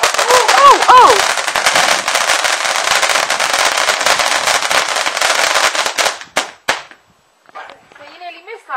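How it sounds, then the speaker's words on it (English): Fireworks set off in a garden on Guy Fawkes night crackle loudly and continuously for several seconds like rapid firecracker bursts, then fade to a few sharp bangs and distant pops, with brief voices near the end. "our fireworks are nowhere as good as the ones that are in the background"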